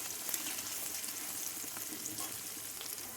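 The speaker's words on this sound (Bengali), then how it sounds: "পেঁয়াজ লঙ্কাগুলো ভাজা ভাজা হয়ে এসেছে" Chopped onion and chilli frying in hot oil in a pan while cabbage sabji is being cooked, giving a steady close-up sizzle and crackle throughout with no talking.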